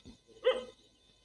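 A single dog bark rings out in a forest, short and moderately close, with quiet surroundings before and after.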